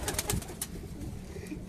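Pigeons, including a Punjab champion racing pigeon, coo in low, rounded calls. A few bursts open the stretch before it settles into a softer murmur of cooing and background noise, with no voices.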